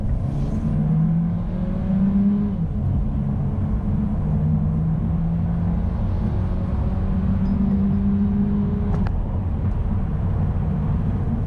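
2019 Mercedes CLA180 accelerating through a 30 to 70 sprint, a steady droning engine note from inside the cabin that rises gradually in pitch, with a faint gear change partway through.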